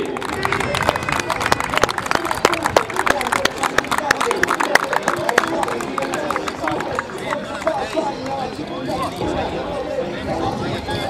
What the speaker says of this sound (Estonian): Teeme neile aplausi!